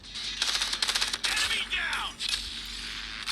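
Short automatic weapon bursts from a submachine gun in Call of Duty Mobile, rapid clattering shots in several brief volleys with pauses between, mixed with game sound effects.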